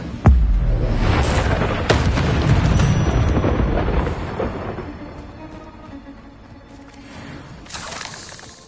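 The Incendio fire spell cast in Hogwarts Legacy, a sudden loud boom followed by a roaring, crackling burst of flame that gradually fades, with a second flare near the end.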